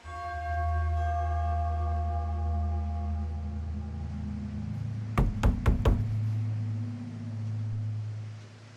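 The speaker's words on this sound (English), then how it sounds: "So, do we just knock or..." Four sharp knocks land on a door in the horror video game The Casting of Frank Stone, loud and close, over a low droning ambient score.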